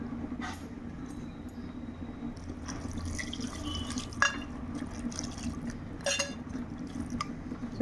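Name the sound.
water being poured into cooking pot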